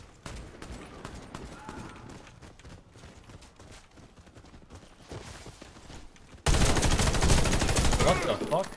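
Gunfire in Warface, with scattered rapid shots under a low background, then a sudden loud burst of sustained firing in the final seconds.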